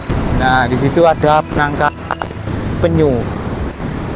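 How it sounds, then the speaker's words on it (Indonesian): Large ocean waves break near a beach beside a forest, making a steady, rushing wash under someone speaking close to the microphone. "itu ombaknya sangat-sangat besar yo"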